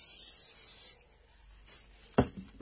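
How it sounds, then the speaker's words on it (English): Leaf shine spray is sprayed onto autumn wreath greenery and berries: a close, steady aerosol hiss for about a second, followed by a couple of short bursts of spray or rustling. "I'll just use my leaf spray, and it actually catches the berries as well"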